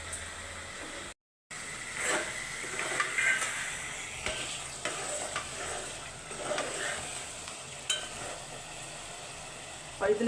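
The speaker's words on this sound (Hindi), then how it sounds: "मेरा ये सालन जो है भुन रहा है" Curry (salan) fries in a pan with a continuous close sizzle and hiss, broken by occasional stirring scrapes and a momentary gap, with no speech over it.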